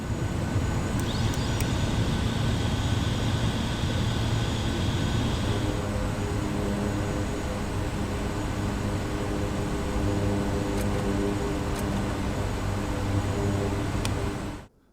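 A Kodiak 100 turboprop taxis to parking at Goroka, Papua New Guinea, in a flight simulator: a constant loud engine drone with a high whine in the first seconds, then a few faint clicks before the sound cuts off abruptly.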